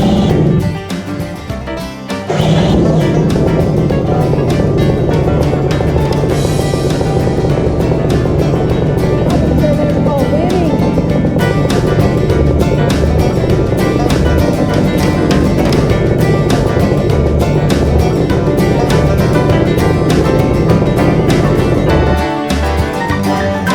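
A two-stroke paramotor engine sputters for a couple of seconds, then catches and runs loud and steady at close range with a harsh, buzzing drone that continues almost to the end.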